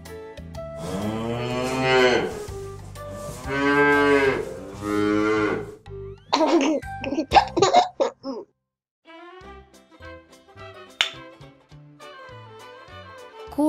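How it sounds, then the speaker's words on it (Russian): A cow in a Russian children's cartoon farm scene with a tractor moos in long, loud, drawn-out calls, two or three strong lows followed by quieter cartoon sound effects. "Корова."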